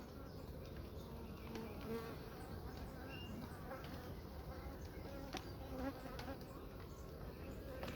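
Bees drone steadily around a hive in a coastal apiary, a dense, continuous buzzing close by with individual insects passing near, and no talk.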